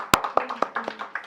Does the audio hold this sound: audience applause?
yes